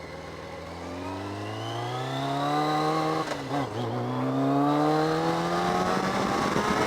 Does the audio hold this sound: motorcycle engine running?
yes